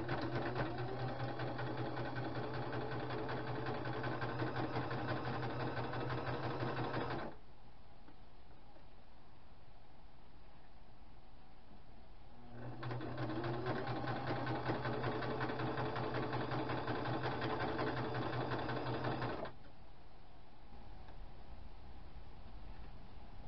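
Sewing machine stitching cloth napkins: two long steady runs of fast, even mechanical whirring, each about seven seconds, separated by a quiet pause, close and alone with no talk.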